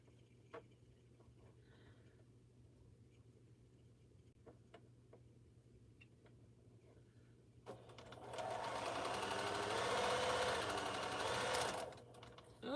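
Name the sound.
sewing machine stitching quilt fabric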